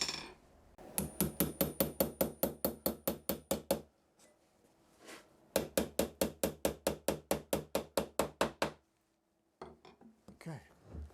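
Hammer tacking upholstery onto a chair front while tufted buttons are being repaired, sounding as two rapid runs of about fifteen sharp, evenly spaced taps each, close and loud, separated by a short pause.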